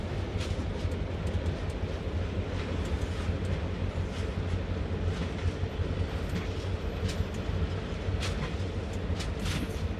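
Amtrak SW1000R diesel switcher locomotive in Train Sim World idling and running steadily between throttle notches at low speed, a continuous deep engine drone with faint metallic clicks over ten seconds.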